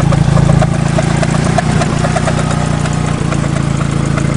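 A steady idle from an Eagle Talon engine with a faint rubbing of the timing belt cover against it, a continuous even drone heard up close with no talk.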